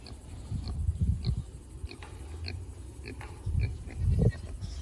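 A pet pig grunting up close, with low, rough grunts coming in irregular bursts and no talking.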